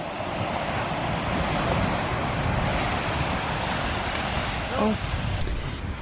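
Sea waves wash steadily onto a beach near a summer house, a continuous loud rushing surf with wind buffeting the microphone throughout.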